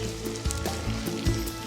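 Rhubarb sizzles in a buttered skillet with Jamaica syrup, making a steady close frying hiss broken by soft pops and crackles, with no talking.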